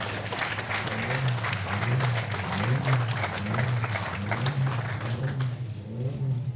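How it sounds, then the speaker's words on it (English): A crowd applauds steadily at the Goodwood launch of Gordon Murray Automotive's T.33 Spider and T.50 cars, with dense, continuous clapping and a low rhythmic hum running beneath it throughout. "You can clap, yeah."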